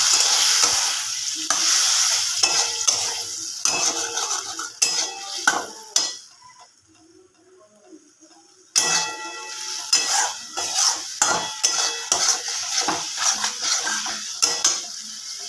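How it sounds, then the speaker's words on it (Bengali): Fish curry with potato and lentil dumplings stirred in a pot, a close spoon scraping and clinking against the metal in steady irregular strokes over a soft simmer, with a brief quiet pause midway before the stirring resumes. "সামান্য একটু জল দিয়ে দিলাম আবার নাড়াচাড়া করে নেব"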